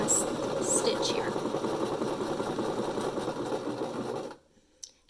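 Sewing machine running steadily as it stitches along flat-lying fabric, a continuous close motor whir with a low rhythmic chatter, then stopping abruptly near the end.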